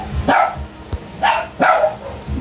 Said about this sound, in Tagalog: Yung mga aso niyo.